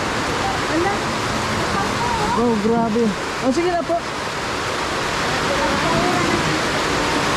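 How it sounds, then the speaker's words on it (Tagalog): Heavy rain pours steadily as a loud, dense broadband wash throughout, with people talking and exclaiming over it in the middle. "Grabe ang lakas po ng ulan mga kalangga."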